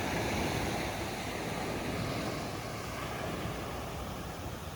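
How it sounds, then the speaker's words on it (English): Surf washing steadily onto a beautiful stretch of sandy beach, a continuous broadband roar of breaking waves with some wind noise, loud and close, with no talking. "another 3 minutes walk, and you're on this beautiful, beautiful, beautiful stretch of beach"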